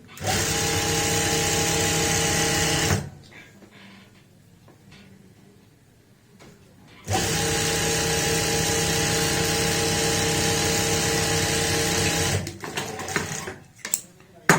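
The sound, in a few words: sewing machine stitching the second leg of a palazzo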